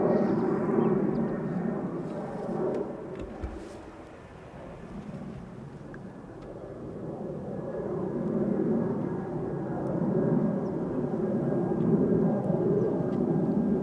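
A KLM Embraer 190 airliner passes at Amsterdam Schiphol with a low, rolling rumble that dips around the middle and then builds again to a steady drone, fairly distant and unaccompanied by speech.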